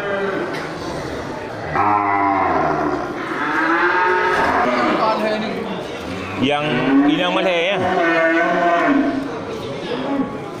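Cattle moo repeatedly at a busy livestock market in Geurugok, with several long, loud, overlapping calls from nearby animals over crowd noise and people talking.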